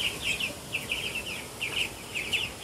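Chickens and chicks cluck and chirp in a busy, continuous chatter over a steady outdoor rumble, several birds calling at once at moderate distance.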